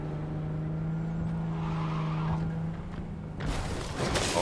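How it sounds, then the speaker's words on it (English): A car in the video game Cyberpunk 2077 drives with a steady engine drone, then breaks into loud skidding with tire noise near the end. "You like turn just a touch and it skids around."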